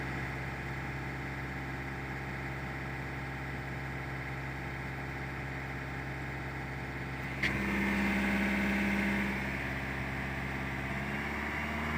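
A diesel vehicle idles during DPF regeneration, a steady low engine drone that steps up partway through as the revs rise on their own, holding a higher hum for a couple of seconds before settling back.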